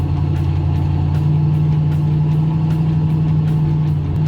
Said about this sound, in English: This V8 is more than handling these curves and elevations. It's got that great roar, that nice rumble to it.